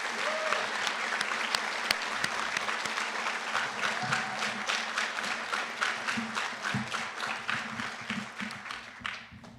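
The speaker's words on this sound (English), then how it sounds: "let's give one more round of applause to all these wonderful graduates" A graduation-ceremony crowd claps for graduates at an early college scholars celebration, a sustained moderately distant round of many hands with a few sharper individual claps, fading out at the end.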